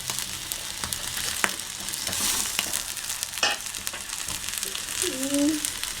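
Marinated fish frying in oil on a dosa griddle for a Chettinad fish fry, a steady close crackle with sharp spatters and a few utensil clicks, a brief squeak near the end.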